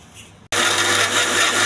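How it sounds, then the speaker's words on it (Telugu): An electric mixer grinder kicks on abruptly after a short quiet moment and runs loud and steady with a strong hum, blending coconut chutney with ullipaya (shallots) close by. "ఇది మిక్సీ వేసుకోవాలి."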